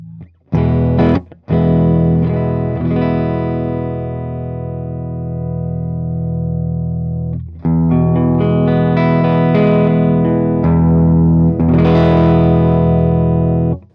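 Sustained electric guitar chords ring out loud and clean through a JHS Notaklon preamp pedal at zero gain, each held for several seconds with short gaps between strums.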